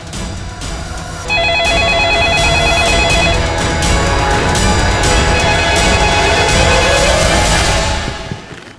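Telephone ringing in a police station during a Hindi crime drama, a loud, steady electronic ring with repeating tonal bursts that runs for most of the clip under a busy background, with no talk over it.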